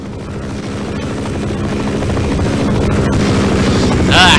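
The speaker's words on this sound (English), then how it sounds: "let's see if there's a way we can get rid of this Apache helicopter" Apache helicopter from the video game Half-Life circling overhead, a steady, loud rotor drone that builds gradually and stays constant throughout, with faint other game noises.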